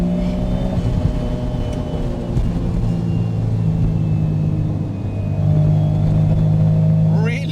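Engine of a Mazdaspeed Autozam AZ-1 kei sports car revving while driving, a steady buzzy drone with a rising pitch near the end, heard from inside the car with a voice talking over it.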